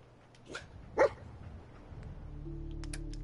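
Dogmeat, the dog companion in the video game Fallout 4, gives a couple of short barks near 0.5 and 1 seconds, with a faint backdrop of game ambience and a steady hum toward the end.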